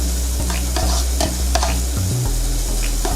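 Sausages and onions frying together in a pan for British bangers and mash, a steady close sizzle with a few soft clicks and scrapes of stirring, no voices.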